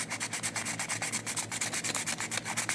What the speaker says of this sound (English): you can still hear the sandpaper noise